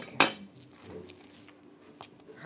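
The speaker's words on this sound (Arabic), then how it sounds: "حاعطيكم صحون" Dishes being handed out during a home breakfast, with one sharp ceramic clink near the start followed by faint, scattered kitchen clatter.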